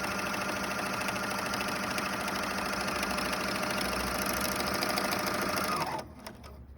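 A serger sewing machine runs steadily at speed while stitching, a loud close mechanical whir with a fast rhythmic chatter that stops abruptly near the end.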